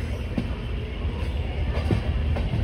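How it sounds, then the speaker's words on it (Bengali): A train rolls into Prayagraj Junction station in heavy rain, its steady low rumble and rhythmic clatter of wheels heard close from inside the carriage, with no voices. "আমাদের ট্রেন ঢুকছে প্রয়াগরাজ জংশন স্টেশনে"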